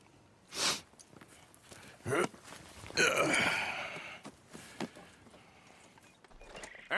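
Horse hooves clip-clop in short bursts in the video game Red Dead Redemption 2, with breathy sighs and soft sounds between the steps at a fairly quiet level.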